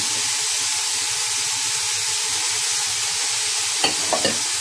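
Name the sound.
sautéing vegetables for vegetable biryani in a pan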